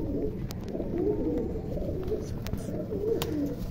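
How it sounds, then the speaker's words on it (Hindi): Pigeons coo softly and continuously, low throaty warbling calls overlapping one another, close by, with no voices. "सबसे पुराने वाला कबूतर है"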